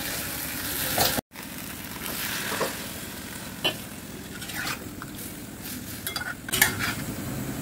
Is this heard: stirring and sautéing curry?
yes